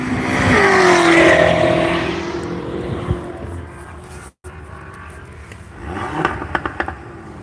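A BMW M5 race car at Nelson Ledges track roars close by, its engine note climbing then fading as it passes, followed by quieter distant engine noise and a few scrapes.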